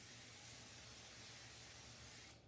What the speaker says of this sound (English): First thing I do is spray the pan you're going to be pulling it out of.